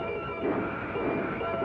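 Santa Fe railroad locomotive running in Atchison, a steady low rumble and rolling clatter of the train throughout, mid-distance, with no voices.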